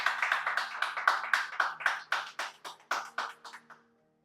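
Clapping in a church service, a few hands close by with a sparse, fairly regular rhythm of distinct claps that trails off after about four seconds, with no talk over it.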